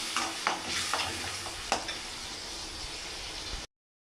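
Ground tomato being stirred into a frying prawn curry in a pan, with steady sizzling broken by a few scraping stir strokes near the mic, then cutting to silence at the end.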